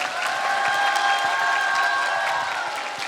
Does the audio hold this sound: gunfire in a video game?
no